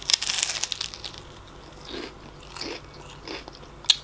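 Close crunchy bites and chewing of super spicy jerky, a burst of crisp crackling at the start followed by slower, moist chewing sounds and a final sharp crunch, heard up close with no talking.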